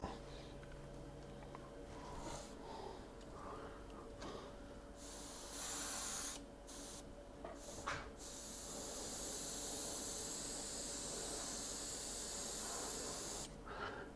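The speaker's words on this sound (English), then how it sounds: "It's pretty thin, so it actually sprays really nice." Airbrush spraying thin paint at about 15 psi, a quiet steady hiss that comes in short bursts before settling into a longer continuous spray.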